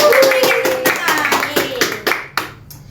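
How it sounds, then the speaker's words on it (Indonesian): An audience of a Christian junior high school gathering applauds a teacher, a short burst of hand claps that thins out into a few scattered claps. "Berikan tepuk tangan"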